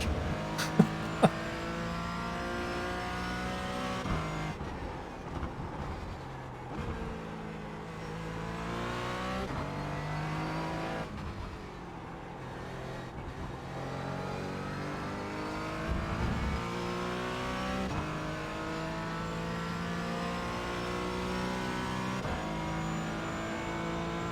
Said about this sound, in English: You can literally hear the car leaving the track.